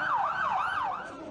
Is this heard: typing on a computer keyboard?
no